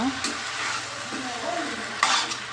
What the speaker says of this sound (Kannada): ನೋಡಿ ಈಗ ಹಾಕುವ ನೋಡಿ ಇದನ್ನೀಗ ಚೆನ್ನಾಗಿ ಫ್ರೈ ಮಾಡುವ